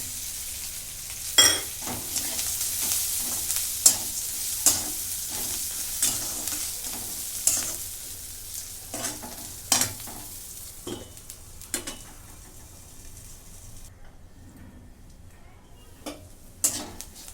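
Coriander leaves and peanuts fry in a hot pan for a chilli thecha, with a steady close sizzle and a regular clack of a spoon stirring against the metal roughly every second.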